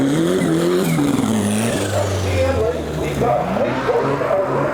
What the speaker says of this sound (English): Here we got the Honda Accord and the Turbo Integra at it again.